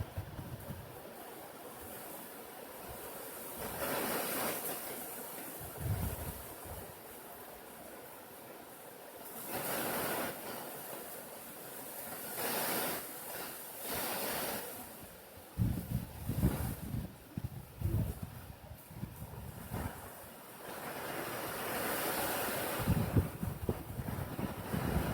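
Heavy rain and strong wind roar steadily in broad, hissing noise, with gusts surging and buffeting the microphone in uneven waves, loud and close throughout.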